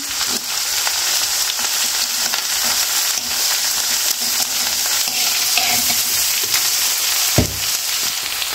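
Okra sautéing in a pan with turmeric and chilli powder: a loud, continuous sizzle with constant stirring scrapes, and one sharper knock near the end, with no voices.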